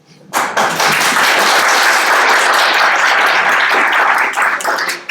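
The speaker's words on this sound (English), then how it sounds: "So please give yourselves the applause for your hard work." Political club members applauding at a Palm Desert Democratic Club meeting: a sudden burst of dense, loud clapping from a room of people that starts abruptly and holds steady for several seconds.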